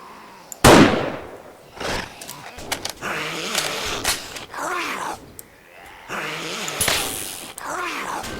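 Gunfire breaks out during a shooting event in the 7 Days to Die video game: one loud sharp blast, then scattered bursts and pops, with a person reacting and speaking between the shots.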